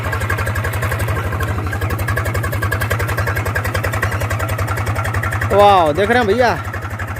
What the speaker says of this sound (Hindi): भैया जी तो ट्रैक्टर हो चुका है चालू